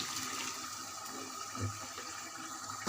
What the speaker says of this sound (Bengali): এখন পরিমাণ মতো পানি দিয়ে দিচ্ছি।